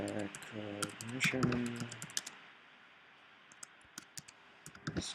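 Computer keyboard typing, a series of sharp irregular key clicks close by, heard first under a speaking voice and then alone with scattered taps.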